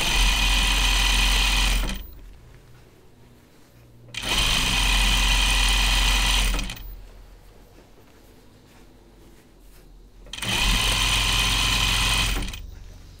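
A sewing machine runs in three sustained bursts while stay-stitching a jacket collar, a steady close whirring hum with quiet pauses between runs.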